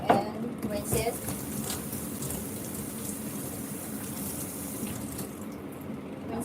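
Tap water runs steadily into a sink while food is rinsed under it, a constant close hiss with a splashy start.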